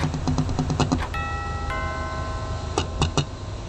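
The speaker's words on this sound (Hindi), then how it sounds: "ठीक उसी वक्त घर की डोरबेल बजी।" A doorbell chime rings out over the ticking of a clock in a quiet house for a horror story, tonal ding-dong notes sustaining after brisk ticks, with a few sharp metallic hits following.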